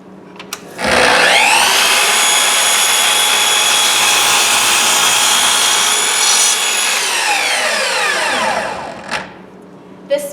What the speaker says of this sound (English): It should never sound like the saw is being forced through your material.